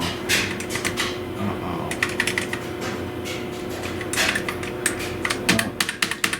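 Keys clatter on the original keyboard of a Compaq Portable computer under test, with irregular bursts of close, loud clicks and taps running throughout and no talk.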